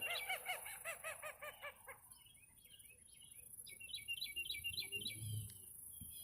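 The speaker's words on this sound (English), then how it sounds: "Where the heck's that duck at?" A duck calls near a dam slough, with a rapid burst of honking quacks first, then thinner chirping calls over a low outdoor rumble, moderately distant.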